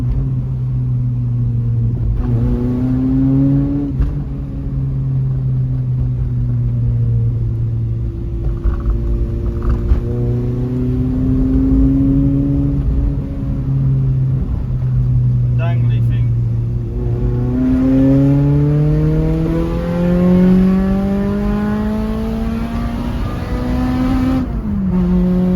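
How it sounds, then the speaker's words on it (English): Engine note of a 1999 Honda CR-V with a swapped B18 VTEC engine, water damaged and revived, rising and falling through revs as it drives, steady and close throughout with occasional speech over it. "CRV with V-Tec."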